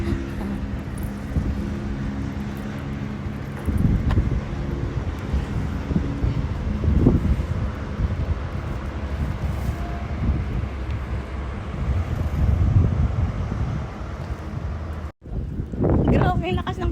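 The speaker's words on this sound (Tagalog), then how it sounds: "Grabe yung lakas ng hangin guys." Strong wind buffets the microphone outside a shopping mall, a steady low roar with gusts throughout, while people talk over it and traffic rumbles nearby.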